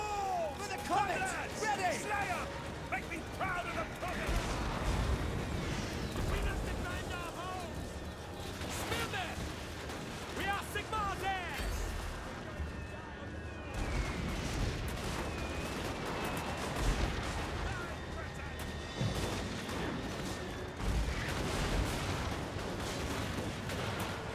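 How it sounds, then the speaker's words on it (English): Troops firing on spear infantry in a Total War: Warhammer siege of Bretonnia, scattered gunshots and crackling volleys mixed with battle clamor, under frequent talk. "Have you guys shoot those spear infantry."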